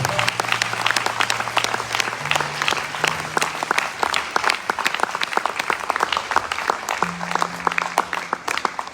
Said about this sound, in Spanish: ¿Por qué no le damos un aplauso a Él, al Rey, al Señor?